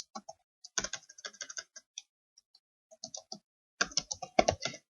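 Command typed on a computer keyboard while configuring HPN/H3C Comware IRF switch ports: bursts of quick, close key clicks separated by pauses, ending in a dense flurry of keystrokes, with no voices.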